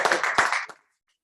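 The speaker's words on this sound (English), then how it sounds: "A round of applause once again." A room full of people claps in a short broadband burst of applause that fades out after under a second, leaving silence.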